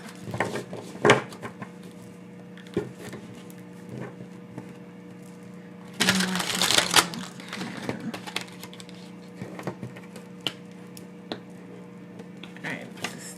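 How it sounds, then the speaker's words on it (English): Irregular soft flicks and slaps of cards being handled, with a louder shuffling flurry midway, over a low steady hum. "I'm just going to do a couple of quick shuffles."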